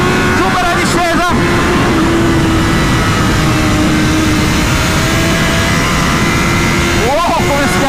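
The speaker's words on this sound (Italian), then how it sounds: "sentite come entra il traction control" A racing motorcycle engine roars loudly at close range on a wet track, with rapid stuttering revs as traction control cuts in near the start and end, and someone speaks over it.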